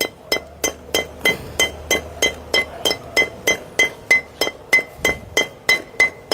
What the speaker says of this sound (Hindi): इतना हथौड़ी से ठोकने के बाद